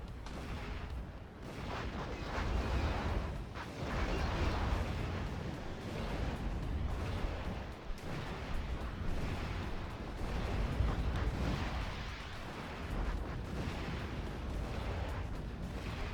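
Sustained, rumbling battle noise of units firing on a refinery in the real-time strategy game Act of Aggression, with overlapping shots and blasts forming a steady, moderately loud wall of combat sound throughout.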